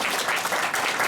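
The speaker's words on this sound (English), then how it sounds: "let's give Robert a big round of applause" An audience at a winter symposium applauds a speaker, with dense, continuous clapping filling the room at close range, evenly loud throughout.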